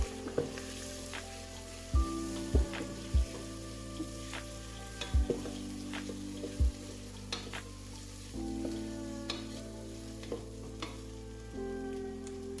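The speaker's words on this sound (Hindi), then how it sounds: "अब हम इसमें अपने चॉप टमेटोज और ग्रीन चिली ऐड कर देंगे" Chopped tomatoes and green chilies fry in a pan for a chana daal chicken dish, a steady low sizzle broken by a few sharp clinks of a spoon against the pan, with no voices.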